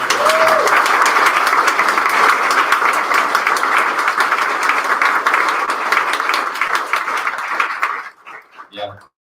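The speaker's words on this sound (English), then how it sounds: "how about a round of applause for our" An audience at an indie game founders' meetup bursts into sustained applause, dense clapping that holds strong for about eight seconds before tapering into a few scattered claps and fading out.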